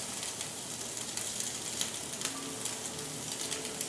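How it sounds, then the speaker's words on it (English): A steak sears in superheated butter in a steakhouse kitchen, giving a loud, dense, continuous sizzle and crackle that stays steady throughout with no talking. "Look at that, just that searing that butter right onto that steak."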